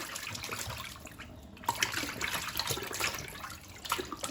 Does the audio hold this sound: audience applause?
no